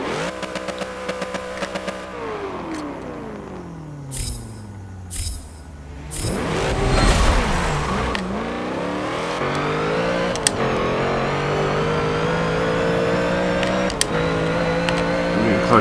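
2014 Chevrolet SS drift build in Forza 7 accelerating hard, its engine sweeping up in pitch through several gear shifts with brief dips between, loud and close, after a quieter opening stretch.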